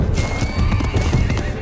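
A horse neighs loudly and close, a shrill whinny with hoof clip-clops underneath, brief and dramatic.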